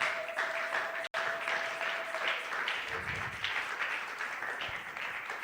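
A church congregation applauding during a Sunday praise and thanksgiving service, with sustained, dense clapping that fills the room and swells and ebbs in loudness.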